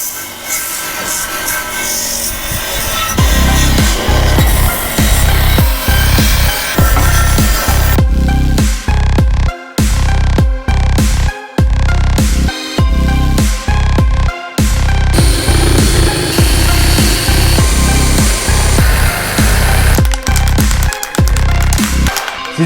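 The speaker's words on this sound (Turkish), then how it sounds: "Şuradaki taşlama makinesiyle, sel fırça tarafıyla girebildiğim kadar gireceğim." Angle grinder fitted with a wire brush attachment, working on a motor salvaged from scrap, grinding loudly and steadily with repeated short stops and restarts as it bites into the metal.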